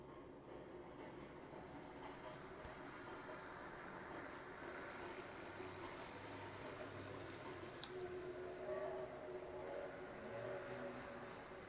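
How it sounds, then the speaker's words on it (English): An hourly train sound effect plays from a train clock beside a vintage HO-scale model railroad layout, a faint, steady rolling rumble with a single sharp click partway through. "That sound is my train clock."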